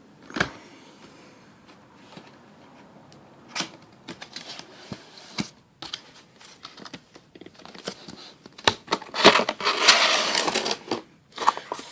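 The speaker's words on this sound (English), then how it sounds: "let's cut this guy open here" Plastic wrap and packaging being sliced and torn open on a Walking Dead Season 3 limited edition Blu-ray walker head tank set, a run of crinkly, scratchy cuts and rips that grows louder and busier toward the end.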